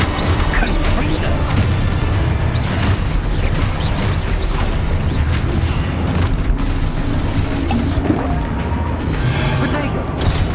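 Confringo fire spell explosions in Hogwarts Legacy, a dense run of booming blasts and bursts layered with combat effects, loud and continuous, with a voice calling out spells over them.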